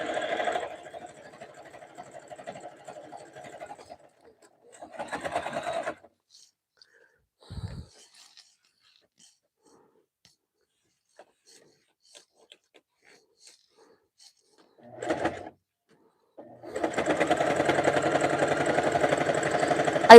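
A Husqvarna sewing machine stitching a jelly roll rug, running in short whirring bursts separated by quiet pauses and then sewing steadily and louder at the end.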